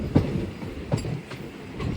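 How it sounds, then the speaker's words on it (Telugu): A train pulled by an electric locomotive rolls along with rhythmic clickety-clack of wheels over rail joints, a steady rumble beneath periodic clacks. "మన ట్రైన్ యొక్క లోకో అంటే ఇంజిన్ వచ్చేసి ఎలక్ట్రికల్ అనమాట"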